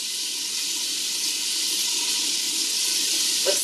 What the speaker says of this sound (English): So I'm just going to throw the onions and the garlic in here.